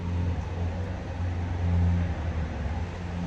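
A farm tractor engine running nearby with a steady, low diesel rumble that holds even throughout, swelling slightly midway, with no other sounds over it.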